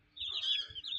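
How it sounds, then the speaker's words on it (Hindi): A protective hen near her chicks gives a short, close burst of high clucking and chirping calls lasting about a second, with no talking. "ये थोड़ी सी मुर्गी खतरनाक मुर्गी है, बच्चों के करीब नहीं आने देती।"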